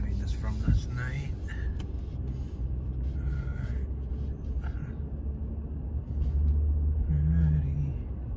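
A car passes on a road as a low rumbling engine sound that swells and fades, heard from inside another vehicle with a person talking over it.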